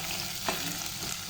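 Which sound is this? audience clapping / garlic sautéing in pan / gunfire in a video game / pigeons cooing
garlic sautéing in pan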